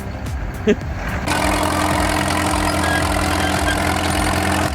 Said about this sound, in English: This is the 1947 Caterpillar D4 pushing 35 horsepower through a 4-cylinder diesel and a dry clutch system